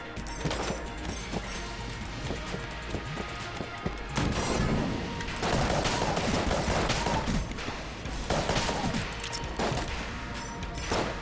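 Rapid gunfire rattles through a hectic Enter the Gungeon fight, dense bursts of shots and impact crashes running nearly nonstop at steady loudness, with a brief lull before the volley surges again.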